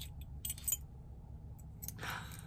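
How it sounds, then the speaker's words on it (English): A ring of metal keys on a keychain jangles in two short bursts, near and fairly quiet, over a low steady background hum. "These are some weird keys."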